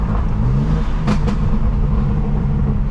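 A 2017 BMW 430i Gran Coupe with a B48 engine and fuel problems runs close by with a steady low rumble, broken by two quick sharp bursts early on.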